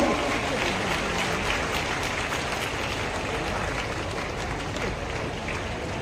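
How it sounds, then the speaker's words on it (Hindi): Steady applause from a large audience at a Jharkhand Foundation Day ceremony, broad and continuous at moderate level throughout, slightly distant. "ताली आपकी ओर से हो"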